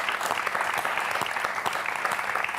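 Studio audience applauding a contestant on a French TV quiz show, a steady dense clatter of many hands clapping throughout, fairly close and even in loudness, with no voices over it.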